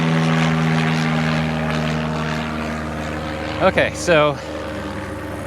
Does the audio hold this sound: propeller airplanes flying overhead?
yes